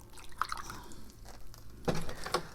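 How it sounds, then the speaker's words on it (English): Water drips and trickles out of the drainage hole of a plant pot after a soaking, a few soft, quiet drips and splashes against faint background noise. "you can see the water coming out of the hole"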